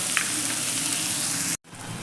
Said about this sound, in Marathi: आपला कांदा परतून होतच आहे